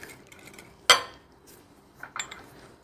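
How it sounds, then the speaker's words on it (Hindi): Onions being stirred into whipped yogurt for cucumber raita, with one sharp spoon clink against the bowl and a few softer scraping knocks afterward, close and fairly quiet, with no talking. "अब हम इसमें प्याज ऐड करेंगे, इनको मिक्स कर लेंगे।"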